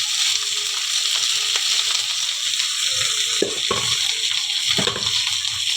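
Rice frying with garlic in a pan for sinangag, a steady loud sizzle throughout with occasional stirring scrapes and clinks near the end.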